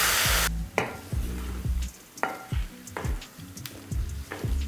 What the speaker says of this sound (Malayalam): ഇനി നമ്മൾ മിക്സിയിൽ അരച്ച് വെച്ചേക്കുന്ന കരിക്ക് ഇട്ട് കൊടുത്ത് കുറച്ച് കരിക്കിൻ്റെ വെള്ളം കൂടെ